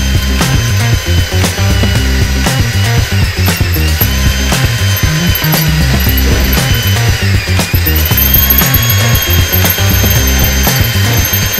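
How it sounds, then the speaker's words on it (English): A power drill grinds hard into a broken bolt, loud and continuous, with rhythmic ratcheting clatter and shifting high squeals throughout. "So I'm going to bring my drill back vertical."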